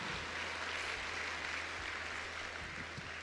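Audience applause filling a packed coliseum, a steady dense wash of clapping throughout with no clear breaks, moderately loud and diffuse.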